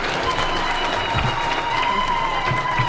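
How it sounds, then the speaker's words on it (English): Crowd applause at an International Women's Day celebration, a steady broadband patter of many hands clapping that fills the whole stretch at fairly loud level, with a faint tone running underneath. "Can we give her a clap?"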